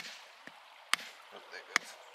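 Sharp knocks from a Kentucky geode being struck to crack it open, three distinct impacts spaced irregularly over about two seconds against quiet background, plus a fainter tap early on.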